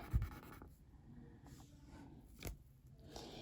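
A pencil draws hair on paper, with soft, quiet scratching strokes in short irregular bursts, close to the page and with no voices.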